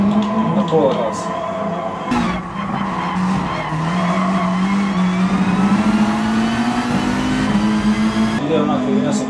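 A race car takes a track curve at half throttle, its mid-pitched engine holding a steady, slowly rising drone with tyre noise, close and loud throughout.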